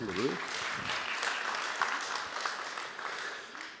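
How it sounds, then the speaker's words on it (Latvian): A room of people claps in steady applause, with a voice speaking at the start over the clapping. "Ar aplausiem, paldies."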